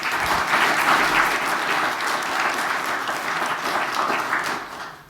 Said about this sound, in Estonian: teeme neile ühe aplausi